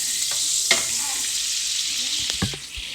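Liver and onions sizzle in a frying pan with a steady loud hiss, and a few scrapes and stirs of a utensil come near the end.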